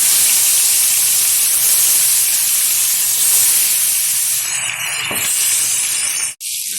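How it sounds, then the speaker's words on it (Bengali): Snakehead fish frying in hot mustard oil in a wok, a loud, steady broadband hiss and crackle that runs unbroken, softening slightly near the end before a brief cut. "শোল মাছটা ভাজার জন্য ওভেনে কড়াই বসিয়ে তাতে দিয়ে দিয়েছি কিছুটা পরিমাণে সর্ষের তেল তেলটা গরম হয়ে গেছে আস্তে আস্তে করে শোল মাছগুলো ছেড়ে ভেজে নেবে"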